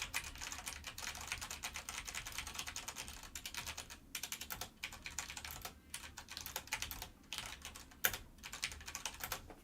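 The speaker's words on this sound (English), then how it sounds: "What you're listening to right now, that's Cherry MX Brown." Typing on a mechanical keyboard with Cherry MX Brown switches, a quiet, dense run of rapid clicky keystrokes with short pauses, heard alone close to the microphone.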